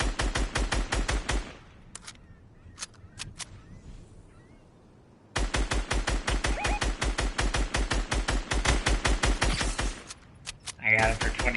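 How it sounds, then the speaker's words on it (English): Rapid automatic gunfire from Fortnite rattles in long, evenly spaced bursts, loud and close, with a pause of scattered single shots in between and a voice talking over the firing. "Somebody just shot me from the south."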